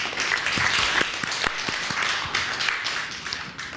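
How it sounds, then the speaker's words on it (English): A group in a workshop session applauds with steady, lively clapping and the odd sharper individual clap standing out from the crowd noise. "A round of applause."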